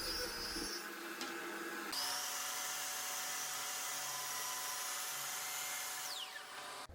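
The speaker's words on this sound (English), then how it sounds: "So here I'm ripping down some poplar to width on the table saw and then final length on the miter saw." A saw cuts poplar boards in a woodshop, a table saw ripping to width and a miter saw trimming to length, giving a bright continuous whirring roar that swells as the blade engages and tapers off at the end.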